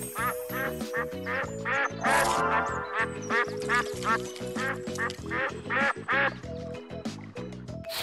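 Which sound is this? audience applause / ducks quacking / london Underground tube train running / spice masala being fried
ducks quacking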